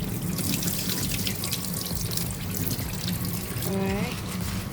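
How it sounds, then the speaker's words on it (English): Dried chilies being washed in a bowl or sink of water: steady splashing and sloshing close up, with tap-like trickling throughout and a brief voice near the end. "now I'm just giving the dried chilies a wash"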